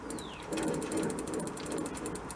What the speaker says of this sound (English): Stick that in there, it's like an internal type socket